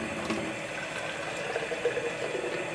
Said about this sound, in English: Now I'm going to pour cold water.